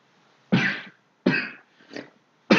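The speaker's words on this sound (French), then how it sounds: "Excusez-moi, je me suis décalé pour tousser." Three sharp coughs from one nearby person, each a short harsh burst with a gap between, the last a little softer and broken; a fourth cough begins as the clip ends.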